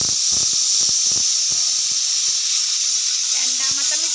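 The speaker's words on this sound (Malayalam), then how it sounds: "രണ്ടാമത്തെ വിസിലും അടിച്ചിട്ടുണ്ട് കേട്ടോ." A household pressure cooker sounding its second whistle, releasing steam as a loud, steady high hiss throughout, with brief clicks and a short tonal squeal near the end.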